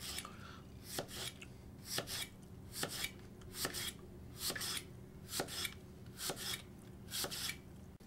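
A knife cuts slices through a cored, very large Honeycrisp apple on a board, about ten crisp, evenly spaced chops with a juicy crunch and a sharp knock on the board, close and clear, with no talk.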